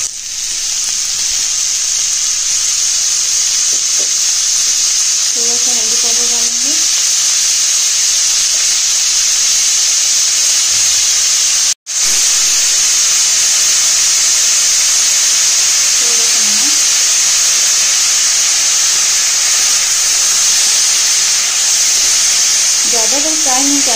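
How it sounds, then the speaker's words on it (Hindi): Mushrooms fry in hot refined oil in a kadai with a loud, steady sizzle and hiss that never lets up, while someone speaks briefly in the background now and then. "अब हम मशरूम को थोड़ा फ्राई करेंगे।"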